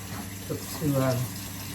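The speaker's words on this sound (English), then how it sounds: "it's best to rinse it right away, because if you don't wash it right away, that stuff sticks" Tap water runs briefly as a container is rinsed of turmeric from a ginger-turmeric tea, a short splashing burst over a low background hum.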